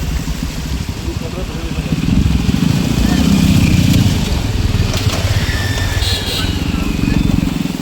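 A motorbike ridden through a waterlogged monsoon road near Belpahari, Jhargram, its engine a steady low rumble that swells in the middle, with splashing and hiss from the wet surface.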